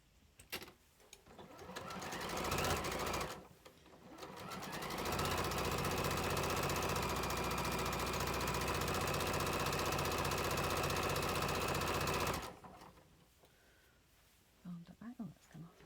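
Sewing machine running a 1.5 mm stitch to join project bag pieces, a steady loud mechanical whir with a short burst first, then a long continuous run before stopping; faint handling noises follow.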